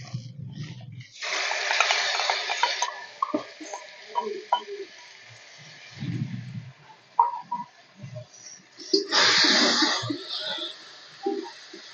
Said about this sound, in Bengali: ভালো করে মশলাটা কষিয়ে নিচ্ছি